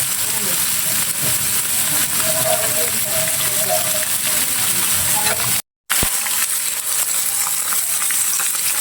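Fish pieces shallow-frying in a pan, a loud, dense, rain-like crackle of hot oil that carries on steadily, briefly cut out for a moment partway through.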